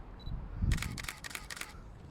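A camera shutter fires in a rapid high-speed burst during a behind-the-scenes portrait shoot, about eight crisp mechanical clicks in quick succession, close and clear against a quiet background.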